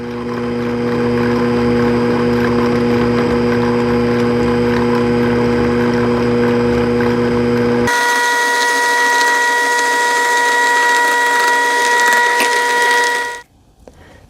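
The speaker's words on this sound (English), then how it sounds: "I'm going to keep my mixer on low and add in my flour mixture" Stand mixer running on low speed, blending flour into sugar cookie dough: a steady, loud motor whir with a sharp pitch shift partway through, then cutting off abruptly near the end.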